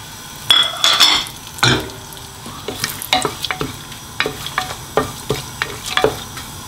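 Whole spices (bay leaf, cinnamon stick, clove, green cardamom) frying in hot oil and ghee in a pressure cooker for meat pilau, a continuous sizzle broken by repeated metallic clinks and scrapes of a spoon stirring against the pot.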